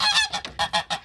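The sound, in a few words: geese honking on a farm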